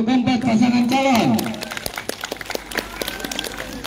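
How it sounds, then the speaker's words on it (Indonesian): A school audience claps for the candidate pairs at a student council election debate at SMAN 1 Pangkatan. A voice is heard briefly first, then scattered, lively clapping carries on near the microphone. "Sekali lagi mana tepuk tangan untuk keempat pasangan calon"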